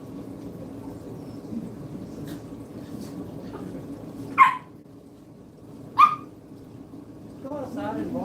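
A dog gives two short, sharp barks about a second and a half apart over a low indoor hum and faint background noise.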